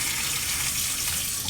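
Running water gushes steadily from a tap while a dog is rinsed, a soft even hiss with no voices over the short stretch.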